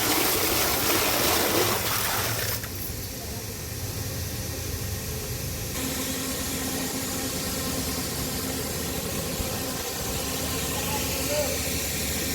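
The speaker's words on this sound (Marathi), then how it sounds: "चाललंय पाणी" Water running at a hospital construction site, a continuous broadband rush and hiss that drops in level for a few seconds before returning, with faint voices in the background.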